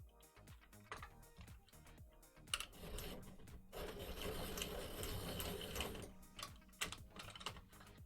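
A dark brown colored pencil is ground in a sharpener, a close, dense grinding burst lasting a couple of seconds, surrounded by lighter clicks and taps at low level.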